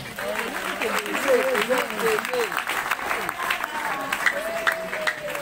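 Sustained crowd applause fills a women's gathering honoring a female leader, steady and fairly close, with a speaker's voice talking over it throughout.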